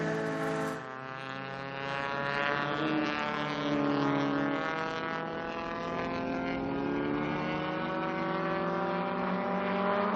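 A BMW Super Touring Under race car at the 2016 SCCA Runoffs gives a loud, close engine howl as the driver applies throttle through the keyhole turn, its pitch climbing steadily.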